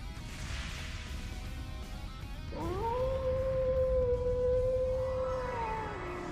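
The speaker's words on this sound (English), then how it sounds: "Did that howl cancel out the artifact's power?" A wolf howls in the video game Trails into Reverie, a long, loud, sustained rising and falling cry over a rumbling game soundscape of collapse and battle.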